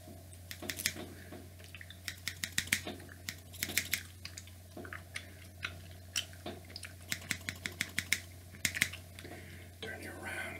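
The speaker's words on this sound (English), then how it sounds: "now I'm just gonna pull in a little bit up the top, just snip a little" Scissors snip hair at the top of the head in an ASMR barber shop roleplay, a run of quick, crisp, close clicks in small bursts, with soft breathy sounds and faint gum chewing underneath.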